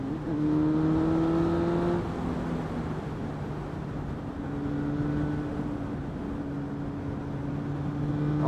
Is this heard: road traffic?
yes